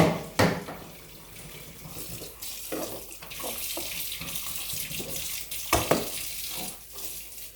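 Tap water runs steadily into a sink as dishes are washed, with sharp clinks and knocks of plates breaking through the flow at intervals.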